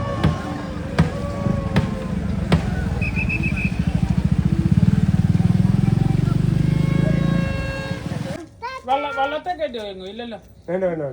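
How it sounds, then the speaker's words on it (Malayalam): A motorcycle rides along toward a village boat race in Kerala, its engine a steady loud drone with a rhythmic pulsing for several seconds before cutting out; people talk over it and then alone afterward. "ഞങ്ങൾ രണ്ടുപേരും പുറകെ ബൈക്കിലും പോകുന്നുണ്ട്"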